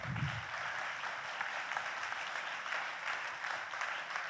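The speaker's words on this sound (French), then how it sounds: "Je pense qu'on peut applaudir Thierry et le remercier" A conference audience in a plenary hall in Hauts-de-France applauds a speaker with even, sustained clapping. The applause is fairly distant and holds at a constant level the whole time.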